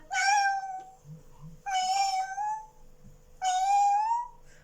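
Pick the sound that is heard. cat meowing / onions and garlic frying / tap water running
cat meowing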